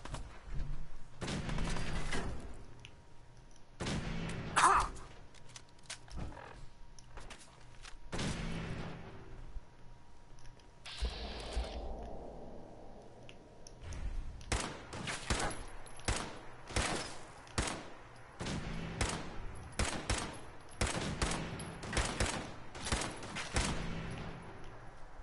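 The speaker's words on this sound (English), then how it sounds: "Opening fire." Rapid bursts of gunfire from the Fallout 4 video game, repeated volleys of close, loud shots in clusters separated by brief lulls, with no voices present.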